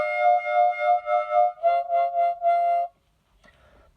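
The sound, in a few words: harmonica played with closed cup hand technique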